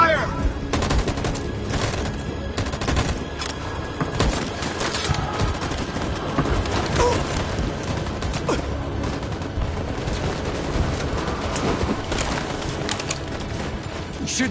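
A squad firing in Detroit: Become Human, with dense, continuous automatic gunfire and scattered sharp shots, loud and chaotic, and a faint voice now and then.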